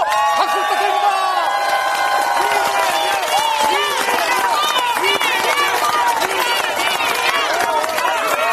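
A packed campaign rally crowd in Gunsan for the Democratic Party chants a name in unison while clapping and cheering, loud and sustained, with many voices rising and falling together.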